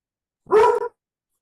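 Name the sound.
dog barking loudly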